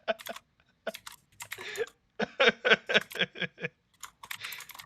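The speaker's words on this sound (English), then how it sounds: "As I hear Rax type at his keys" Fingers type on a computer keyboard in irregular bursts of close, crisp key clicks, some fast runs and some isolated taps, with brief pauses between.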